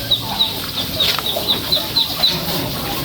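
Rhode Island Red chickens clucking in a quick, regular series of short calls over a steady background hiss.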